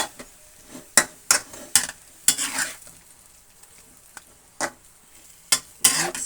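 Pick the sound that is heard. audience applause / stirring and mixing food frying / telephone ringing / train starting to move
stirring and mixing food frying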